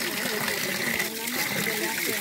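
Abundant spring water gushes and splashes at the Tulei fountain in Ardauli, Sardinia, a steady, close rushing flow heard under a person talking.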